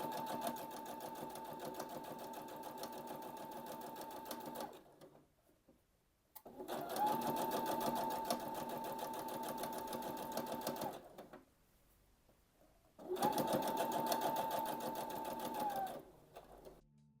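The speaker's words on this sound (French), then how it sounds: "De retour en machine, je vais piquer à peu près" A sewing machine stitches bias binding around a neckline in three long, steady bursts of rapid mechanical whirring, each stopping abruptly with quiet pauses between them.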